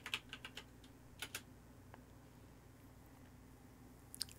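Computer keyboard typing at a fighting game tournament stream, with a few quick clusters of soft key clicks near the start and a couple more near the end, faint against a low room hum.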